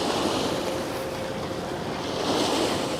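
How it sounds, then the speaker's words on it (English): Wake waves from the passing 400 m container ship Hamburg Express wash against the shore of the Westerschelde, a steady, loud broadband surf rush heard alone, with wind buffeting the microphone throughout. "We're getting the waves from her now."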